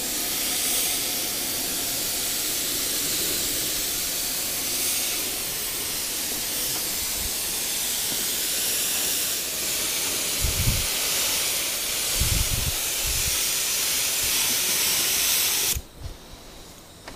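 Spray gun laying a coat of etch primer in a workshop, a continuous close airy hiss that runs unbroken for about sixteen seconds, then cuts off abruptly, with a few low knocks near the end.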